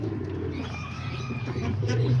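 Homing pigeons coo nearby in a low, rolling, continuous murmur, with a faint thin chirp partway through and no voices.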